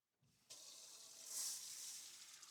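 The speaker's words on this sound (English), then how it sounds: "Add the rice and place everything under cool running water." Cool tap water runs steadily into a fine mesh colander of rice set in a large bowl, starting with a sudden gush and holding a bright, hissing splash that swells slightly midway before settling.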